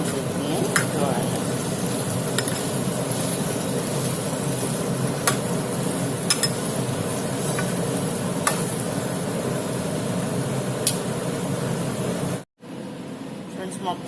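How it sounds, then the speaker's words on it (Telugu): Green chillies and wood apple pieces fry in a pan with a steady, close sizzle, marked by occasional sharp taps of stirring before the sound cuts off abruptly near the end. "మొత్తం అంతా వేపేస్తాం అనమాట. పచ్చిమిరకాయలు, ఎలక్కాయ ముక్కలు అనమాట"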